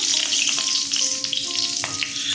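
Green chillies sizzle in hot oil as a tempering for a tomato katla fish curry, giving a loud, steady hiss and crackle up close, with faint tonal hum beneath and no speech.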